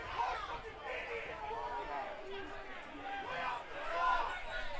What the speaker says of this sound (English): this crowd is letting the officials have it on this one